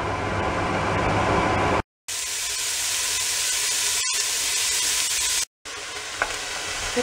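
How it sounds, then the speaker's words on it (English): Onion and celery sauteing in a soup pot for lamb shank soup, a steady bright sizzle broken by two brief cuts, with a faint clink near the end. "And just saute them just for a few minutes before you put the shanks in"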